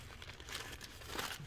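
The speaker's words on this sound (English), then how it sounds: "I'm going to cut off the sides." Scissors cut the sides off paper coffee filters, giving steady close crinkling and rustling of thin paper for a second and a half, with no voices.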